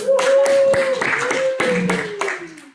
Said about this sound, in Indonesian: Tepuk tangan dong buat Pak Ray dulu.